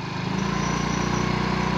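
A Yamaha Mio Soul i 125 scooter engine runs steadily close by with a continuous buzzing drone and no pauses.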